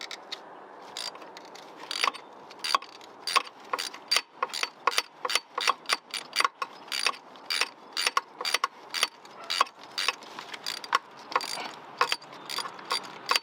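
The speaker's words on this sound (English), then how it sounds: "So I'm going to come in here and loosen it with my ratchet." Hand ratchet loosening a cross-threaded spark plug through a socket extension, close rapid clicking in repeated short bursts with a faint creak, steady rhythm and no talk.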